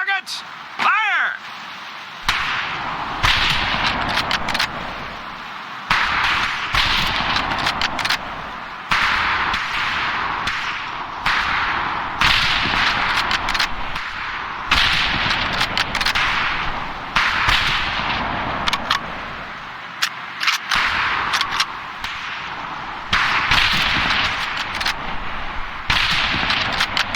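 Rifle shots ring out at targets on a firing range in the Medal of Honor Pacific Assault video game, a long string of sharp, loud cracks in irregular bursts that carries on throughout with little pause.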